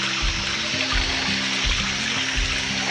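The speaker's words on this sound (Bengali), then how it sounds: "এই যে গণেশজির মূর্তি আছে, থেকে ধারার জল পড়ছে" Water streams steadily from a Ganesh idol fountain at a Shiva temple in Kalimpong, a close, continuous splashing trickle with no talk.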